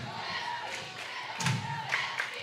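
A college volleyball crowd rises to its feet during a close match, a broad murmur of cheering and noise that swells into a louder burst partway through, with a faint voice underneath.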